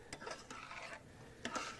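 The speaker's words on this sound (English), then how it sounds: "We'll stir that a little bit." Garlic being stirred in a cooking pot: close, scraping stirring strokes in short bursts, with a louder pair of scrapes near the end and no talking.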